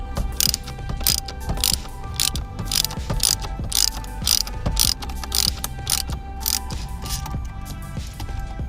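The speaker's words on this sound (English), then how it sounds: "That's going to unveil the second T50 screw. And of course, you're going to go ahead and remove that as well." A ratchet wrench removing a T50 screw from a car steering wheel, rapid repeated clicking of the pawl in quick bursts, loud and close throughout, with no talking.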